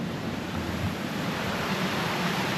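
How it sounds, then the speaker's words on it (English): Water runs down a hillside in a foggy valley, heard as a steady, moderate rushing wash that holds even from start to end with no voices. "And you got all this water running down."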